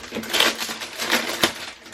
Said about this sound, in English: I've actually not taken it out of this bag yet, so excuse the noise.